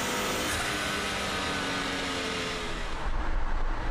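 A Ford Focus RS engine drones steadily while the car is driven on tarmac, a broad loud cabin roar with road noise that shifts slightly near the end.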